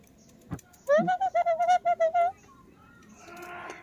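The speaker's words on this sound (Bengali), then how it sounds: "নিজ মনে কথা বলে যাচ্ছে টিয়া" A pet parakeet chatters to itself in a village kitchen on a winter morning, a run of about ten short, evenly spaced harmonic calls, close and clear, followed by softer rustling.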